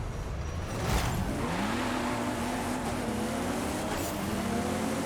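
Race car engine in Forza Horizon 5 during a sprint race: a loud, continuous engine drone rising in pitch through the gears, with a brief whoosh near the start and steady road noise throughout.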